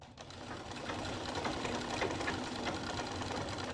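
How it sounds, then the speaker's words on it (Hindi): A sewing machine runs steadily while stitching a ladies' suit neckline alongside the buckram, giving a continuous, close, even whirring drone with no pauses. "तो देखिए कैसे सिलाई लगाते हैं"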